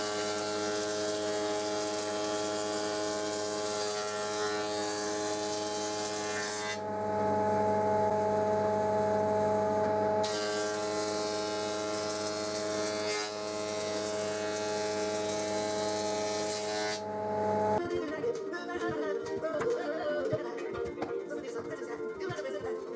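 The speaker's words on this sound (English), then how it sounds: "I jointed and planed the legs too" A jointer and planer machine wooden table legs, giving a steady, loud whining motor hum that shifts in tone between passes before breaking into a rougher, noisier cutting sound at the end.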